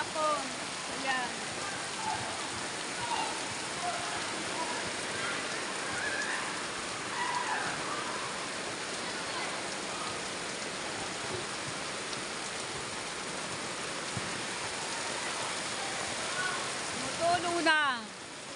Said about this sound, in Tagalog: Inabot na naman ako dito ng ulan.